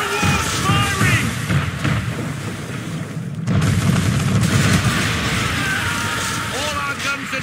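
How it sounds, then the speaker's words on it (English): Heavy cannon fire from a man-of-war ship in Assassin's Creed III booms repeatedly under a loud naval battle din, with shouting voices and crew talk throughout. "We're under attack! Man of war's firing!"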